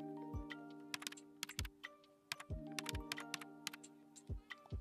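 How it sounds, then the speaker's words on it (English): Computer keyboard keys typed in quick irregular bursts while entering a room name in the Rec Room game, the clicks close and crisp over faint steady electronic tones, with no voices. "you just want to type in your room"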